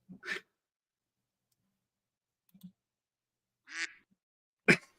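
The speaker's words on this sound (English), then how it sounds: "How am I supposed to say anything when you keep quacking there" A duck quacks four times at scattered intervals, each call short and fairly quiet against silence.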